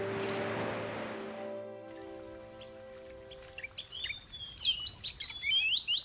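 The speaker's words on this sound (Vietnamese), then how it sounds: "Ở đây là có con chim, buổi sáng là nó vừa thức dậy là nó cũng kêu" Several birds chirp and tweet in short, bright morning calls that grow busier toward the end, after a fading low hum at the start.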